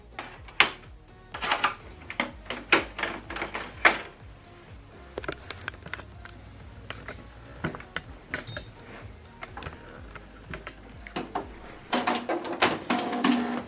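Mechanical clicks, whirs and clattering taps from a Canon PIXMA TS7650i inkjet printer powering on, with its ink carriage sliding back and forth in bursts; no voices.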